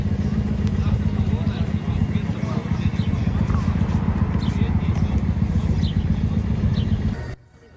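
A crowd of motorcycles at a tenth-anniversary motorbike rally in Israel, producing a continuous dense engine roar and rumble at close range that cuts off abruptly at the end, with a voice heard over it.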